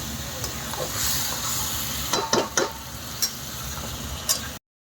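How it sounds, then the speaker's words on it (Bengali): Boal fish browning in hot oil with a steady soft sizzle, broken by a few sharp scraping stirs and clicks of a spatula against the pan midway through, then cutting off abruptly near the end. "মাছটা দিয়ে সুন্দর করে এরকমভাবে যেরকম মাংস কষায় এরকম করে কষিয়ে নেব"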